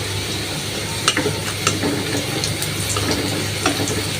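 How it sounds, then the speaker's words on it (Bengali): Cumin seeds sizzling in hot oil in a home kitchen, a steady close hiss with a few sharp pops and crackles scattered through, no voices. "আমি কয়েকটা জিরা দিয়ে দিলাম।"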